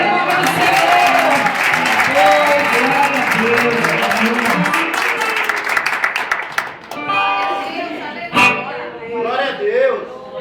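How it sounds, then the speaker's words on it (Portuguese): Church congregation claps loudly and continuously for several seconds before the applause breaks off and a preacher's voice takes over, with music underneath. "Você pode aplaudir o nome do Senhor."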